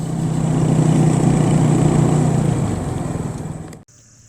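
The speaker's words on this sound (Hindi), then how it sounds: "क्योंकि स्पीड पकड़ ही नहीं सकता मोटरसाइकिल।" A motorcycle engine labours uphill on a mountain road on a ride from Islamabad toward Skardu, a loud, steady buzzing drone that fades slightly before cutting off abruptly near the end.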